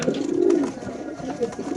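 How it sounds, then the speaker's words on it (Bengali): A maxi racer pigeon gives a soft, low cooing call close by, a brief murmuring coo with a second small note shortly after, and no talking over it. "এটা একটা মাক্সি রেসার কবুতর"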